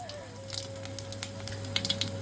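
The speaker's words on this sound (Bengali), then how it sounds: "শুকনো লঙ্কা জিরে সহ গোল গরম মশলা দিয়ে দিলাম ফোড়নটা থেকে যেই সুন্দর গন্ধ বেরোবে" Dried red chilies, cumin and whole garam masala sizzle and crackle in hot oil, a soft, steady frying hiss with small scattered pops, fairly quiet and close, with no talking.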